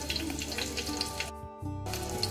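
Green chilli sizzles in hot oil for tempering a spiced field-bean usal, a loud continuous crackling fry close up that briefly cuts out near the middle before resuming.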